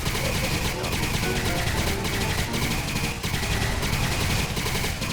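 Rapid bursts of laser RCW rifle fire in Fallout: New Vegas repeat loudly and continuously, each volley crackling in quick succession with no pause.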